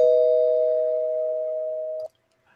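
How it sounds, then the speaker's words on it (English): A single struck bell rings out as a spoiler-warning sound effect, a clear sustained tone slowly decaying for about two seconds before cutting off, heard alone. "So I'm going to ring the bell again."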